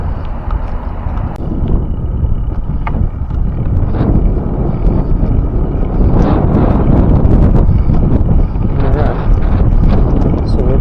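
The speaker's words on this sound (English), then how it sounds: "we do have the wind in our face right now a little bit" Steady, loud wind buffeting the microphone during an outdoor ride through grassy meadows, a constant low roar with gusts and occasional thumps.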